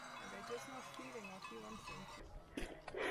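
Sheep bleat in a mountain pasture near the Zugspitze in Germany, several overlapping calls close by with faint cowbell-like clinks, then a rustle and brief handling noise at the end.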